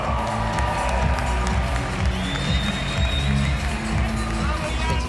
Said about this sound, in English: l'applaudir très très fort